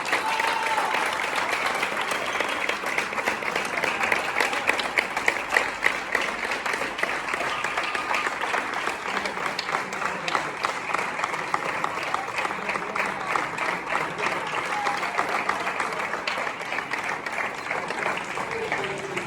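Hearty applause for the winning team of a Frare championship at an awards ceremony, many hands clapping in an even, lively patter that holds steady, with voices faintly mixed in under the clapping.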